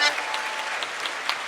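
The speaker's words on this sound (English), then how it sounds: "So give a nice round of applause for Gavin Shevlin here." Brief burst of audience applause for a world champion Irish dancer, many hands clapping at a steady level.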